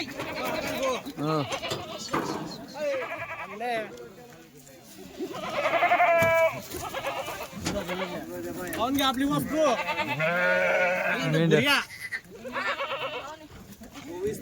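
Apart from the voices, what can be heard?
goats bleating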